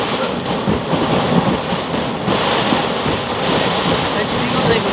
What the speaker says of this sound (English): Oh, rain! Stop coming in my ear hole.